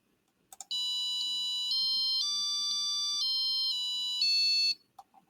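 A Databot robot playing the first two measures of coded music, a sequence of pure electronic beeping notes held in a steady melodic line for about four seconds, with faint clicks before and after.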